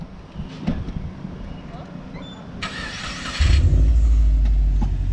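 A 2012 Subaru WRX engine starts up and idles loudly close by as the car is moved toward the curb, with wind buffeting the microphone and people talking nearby.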